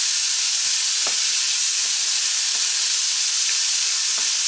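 Half a brown onion and 200 grams of bacon fry in a pan with a loud, dense, continuous sizzle and a few faint stirring taps.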